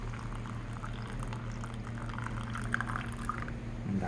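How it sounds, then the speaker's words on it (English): Black siphon coffee pours steadily from a stand-turned-holder into a cup at a cafe, a continuous close liquid trickle over a low steady hum for about four seconds. "So I'm going to pour some black coffee for you and me"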